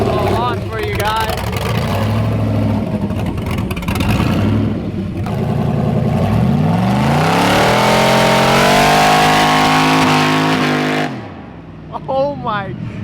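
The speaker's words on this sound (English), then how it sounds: "We're gonna do a little launch for you guys." A Pontiac GTO drift car on drag radials launches hard, its engine building from a rumbling idle into a loud rising rev that sweeps upward for several seconds before cutting off, with voices audible around it.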